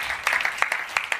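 A small audience at a talk on milk myths claps briefly, a short patter of separate hand claps lasting just over a second.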